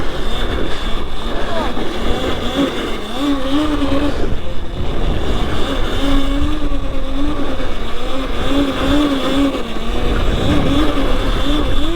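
A Surron Light Bee electric dirt bike fitted with a motor and chain conversion kit circles on wet ground. Its motor gives a continuous rising and falling whine with a little background rumble, steady and fairly loud.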